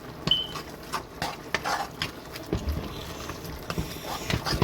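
A spoon scrapes and stirs a macaroni and cheese mixture in a pot, giving soft irregular clinks and thick wet swishes, quiet and close.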